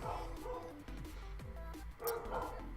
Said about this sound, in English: Yay, barking dogs.